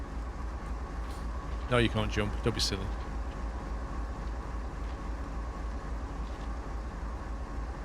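A train running in Train Sim World 2 gives a steady, heavy low rumble that continues throughout, with a person briefly speaking over it.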